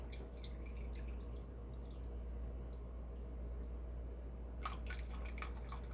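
Turkey broth dripping through a kitchen strainer for gravy: faint, soft drips and trickles over a steady low hum, with a brief cluster of splashier drops near the end.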